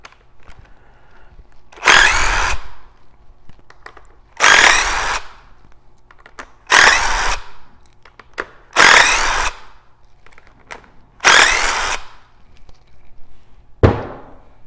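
A power tool zips 10 mm bolts out of a Polaris RZR transmission case in six short, loud bursts spaced about two seconds apart, with quiet gaps between and no talk.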